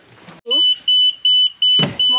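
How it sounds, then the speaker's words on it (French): A car's reversing alarm beeps in a steady series of high, evenly spaced tones, loud and close, with a person's voice briefly heard at the start. "Ah non, c'est bon, c'est la marche arrière."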